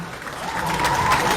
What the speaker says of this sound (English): A round of applause for Hulda.